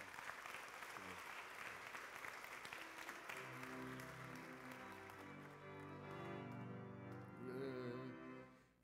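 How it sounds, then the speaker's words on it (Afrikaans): A congregation claps its hands together at a live morning church gathering, a dense, steady applause that carries on at full strength before tapering off near the end, with music or voices building underneath in the later seconds. "Vriende, kom ons gee sommer vir hom 'n lekker hande klap."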